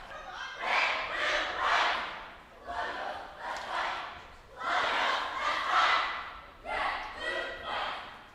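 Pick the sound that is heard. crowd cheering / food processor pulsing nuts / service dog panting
crowd cheering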